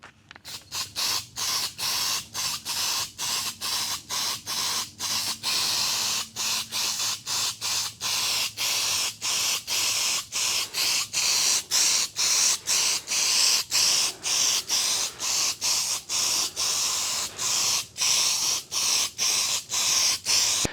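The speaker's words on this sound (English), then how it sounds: "that's enough spraying of the etch primer" A spray can applies etch primer to a damaged car panel in a long run of short, regular hissing bursts, each separated by a brief pause, close and steady.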